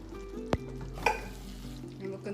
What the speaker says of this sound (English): And we'll continue to mix it and let it simmer also.